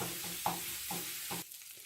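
Half a pound of crumbled breakfast sausage sizzles in a pan, a steady close crackle broken by a few stirring scrapes, with the frying dropping away near the end.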